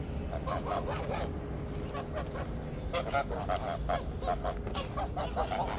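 Geese honk over and over while feeding in a backyard goose flock, their nasal calls overlapping in a steady, close chorus against constant background noise.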